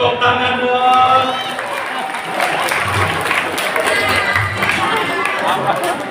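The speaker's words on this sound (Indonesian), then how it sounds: "Kasih tepuk tangan dong." Audience at a religious lecture in a mosque claps on request: mixed clapping and crowd noise with some cheering and murmuring voices, moderately loud and close, lasting several seconds.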